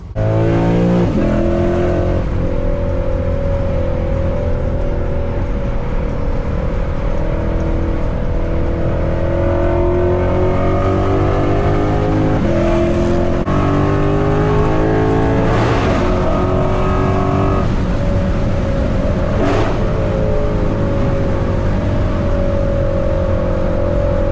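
A loud, raspy straight-piped Lexus RC F engine with a tune drones nonstop while driving, rising and falling in pitch as it revs through gears, harsh and close throughout.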